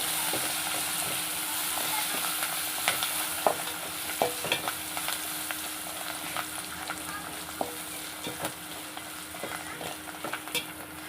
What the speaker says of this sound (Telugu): ఇప్పుడు కొత్తిమీర కరివేపాకు అండి ఇంత వేసేయండి. అన్నీ బాగా వేపేయాలి.